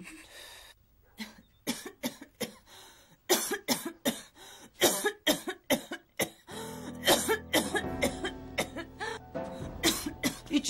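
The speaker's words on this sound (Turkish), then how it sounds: "İçin söküldü öksürmekten." A woman coughs repeatedly in harsh, irregular bursts, loud and close, with the fits growing denser and more continuous toward the end, with no talk over them.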